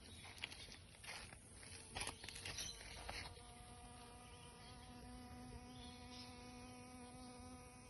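Native bees fly in and out of a freshly reopened hive, a faint steady buzzing hum close by with a few louder passing drones early on, and no voices.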